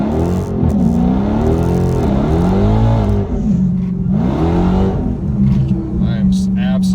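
A Dodge muscle car launches hard in first gear with its wheels spinning, the engine roaring loud and near as its pitch climbs, drops and climbs again in repeated surges.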